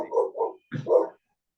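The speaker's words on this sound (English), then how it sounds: "somebody's knocking on our door and my dog's going crazy" A dog reacts to knocking at the door with a few short, close barks: two quick yaps, a pause, then two more, loud and alone.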